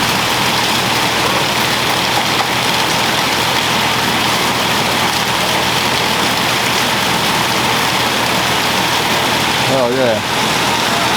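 Heavy rain pours steadily off a house roof, a loud, dense, unbroken wash that fills the whole clip, with a brief spoken remark near the end.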